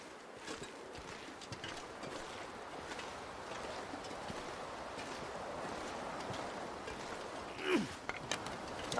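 Wind blows steadily across open terrain in The Long Dark, a faint, continuous broadband rush with a brief louder gust near the end.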